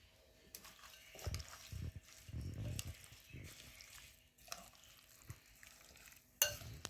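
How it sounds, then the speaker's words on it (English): Brinjal pickle stirred together with masala and 1.5 cups of hot oil, giving intermittent wet, squelching mixing bursts at close range, with no talking. "I'm going to mix my pickle"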